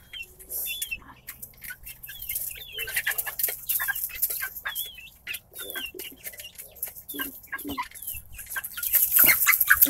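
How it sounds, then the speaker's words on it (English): Backyard chickens cluck and squawk near the microphone, with a rooster's calls among the flock, in irregular bursts that grow busier toward the end. "This is one of my roosters right here."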